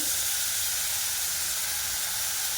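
Soy sauce hits a hot wok while Hakka noodles are being made, giving a steady, loud broadband hiss and steam sizzle that holds evenly throughout with no talking.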